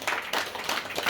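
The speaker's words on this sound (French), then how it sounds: "Si on peut applaudir Jean-Marc aussi" An audience at a literary afternoon event applauds, with steady, moderately loud clapping that continues throughout.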